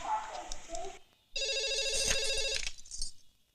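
Telephone ringing in a film scene: a single loud electronic ring burst of about a second, preceded by someone speaking and followed by a brief voice.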